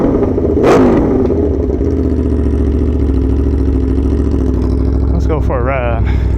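Motorcycle engine running steadily and loud, captured from inside the rider's helmet, with a sustained rumble and a brief rise in revs near the start and another change near the end.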